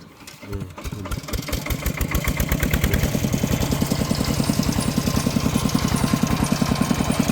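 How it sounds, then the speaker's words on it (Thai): A farm tractor engine starts up and settles into a loud, steady chugging run, its rapid even pulses close and continuous throughout with no voices over it. "ขี่รถไถเอาวันนี้"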